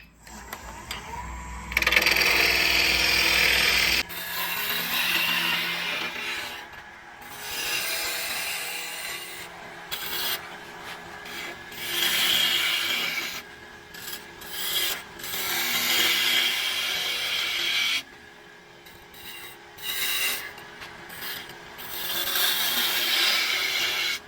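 Hand rasping and filing on a wooden Crush Grind peppermill head, rough rhythmic scraping strokes in bursts close by, with short pauses and occasional light knocks between passes.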